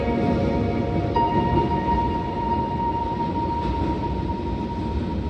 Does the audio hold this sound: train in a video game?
yes